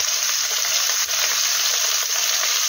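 Chopped onion goes into hot oil already holding warmed small cardamom for a red meat curry. It gives a dense, continuous sizzling hiss that stays loud and even throughout, with no voices.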